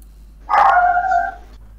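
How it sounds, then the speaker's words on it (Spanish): A single dog barks once, a drawn-out, fairly loud close yelp standing alone against near silence, heard indoors during a gaming session. "La Kika está ladrando."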